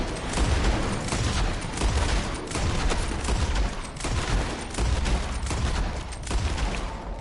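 Rapid, dense gunfire crackles almost continuously in the Red Dead Redemption 2 video game, a loud barrage of overlapping shots with no pauses.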